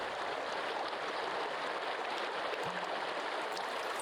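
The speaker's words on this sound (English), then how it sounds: "Hopefully grab us some fresh water here." Water from a stream filling a canteen in the survival game Sons of the Forest, a steady broad rushing and burbling flow, loud and constant throughout.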